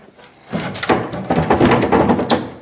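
A drawer being pulled open in an abandoned hangar, a sequence of hard wooden or metal scrapes and knocks at close range, ending with a short sliding rumble.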